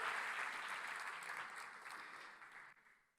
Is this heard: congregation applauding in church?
yes